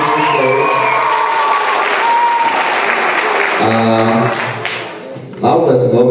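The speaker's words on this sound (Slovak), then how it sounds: "zaslúžia si veľký potlesk podľa mňa" Applause from an audience after a children's performance at a 2017 event in Zlaté Moravce, with broad clapping mixed under loud overlapping voices and tonal sound throughout.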